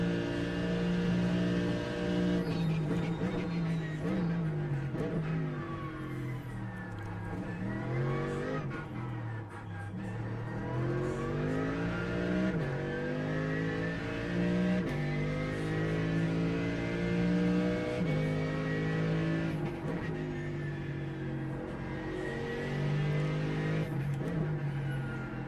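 A race car engine on a Nurburgring lap in the iRacing sim screams through repeated gear changes, rising and falling revs with brief tire squeal, loud and continuous with no talk.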